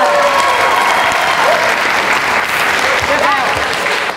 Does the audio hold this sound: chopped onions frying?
no